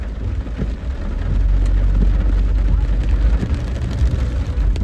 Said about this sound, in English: let us enjoy our ride on the rain to Cocody.